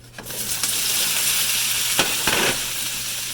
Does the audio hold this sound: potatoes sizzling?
yes